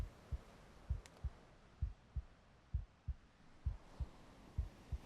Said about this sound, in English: we're definitely hearing a sort of resting heart